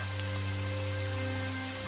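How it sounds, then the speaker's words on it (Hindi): Rain falls in an animated Hindi moral story about a cold winter day, a dense, steady hiss of drops that stays loud and even throughout, with a low tonal hum beneath it. "कुछ ही देर में बारिश भी होने लगती है"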